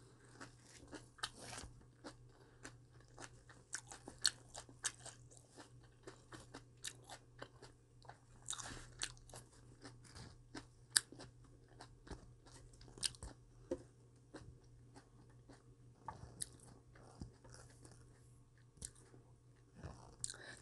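Raw vegetables are chewed up close: cabbage, perilla leaves, carrot and paprika. Quiet, repeated crunches and wet bites come in an irregular rhythm against a low, steady hum, with no talking.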